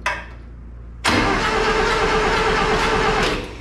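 A small engine fires up after a brief crank, then settles into a loud, steady running rumble close by, which fades slightly at the end.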